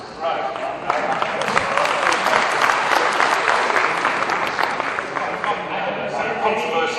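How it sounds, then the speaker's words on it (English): Sustained audience applause at a film industry closing ceremony, dense clapping that swells and holds for several seconds before easing slightly. "he got the applause"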